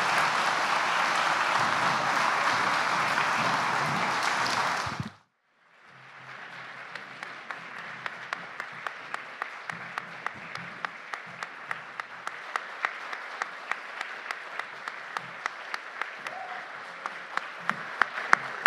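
An audience at the St. Louis Literary Award event breaks into loud, sustained applause for the guests, stops briefly, then resumes as a crisp, rhythmic wave of clapping that carries on to the end.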